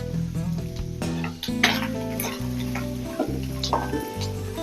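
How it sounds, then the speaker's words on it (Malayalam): Grated coconut fries in a pan while an elissery of yam and raw banana is being prepared. A steady, moderately loud sizzle carries occasional stirring scrapes, and nobody speaks. "തേങ്ങ നന്നായിട്ട് വറന്നിട്ടുണ്ട്"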